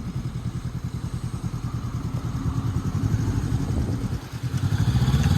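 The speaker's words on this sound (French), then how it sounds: "on monte sur la moto, on met en route le moteur en enlevant la béquille et on s'en va" A motorcycle on an A2 licence exam course starts up and pulls away, its engine thrumming in a steady rapid pulse that grows slightly louder as it moves off, close by with no talking.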